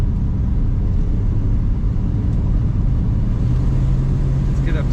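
A 1968 Ford Mustang Sprint two-door hardtop drives along as heard from inside, with a loud, constant low engine and road rumble and a steady tone rising slightly as it gets up to speed.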